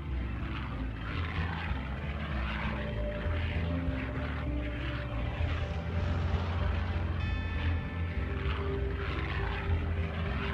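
Curtiss P-40 fighter plane with its propeller engine flying, a loud sustained droning roar that swells and holds steadily without any talk.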